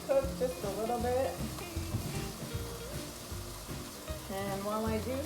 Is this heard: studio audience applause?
no